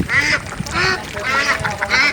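Domestic ducks quack repeatedly at close range while being vaccinated in a rural yard, with overlapping nasal calls coming in bursts over a busy background.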